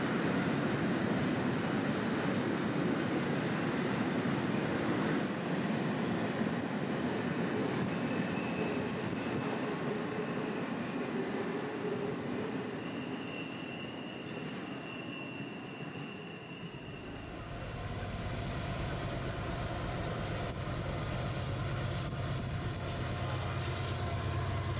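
Freight train I-178 rolling past at night on the S-Line, a continuous loud rumble of railcars with a high squealing tone over the first part, then a shift to a deeper, heavier roar near the end.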